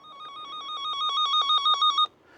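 A steady electronic warbling tone from an automotive circuit tester's wire tracer pulses rapidly and grows louder over about two seconds as it nears the connection, then cuts off abruptly, leaving quiet.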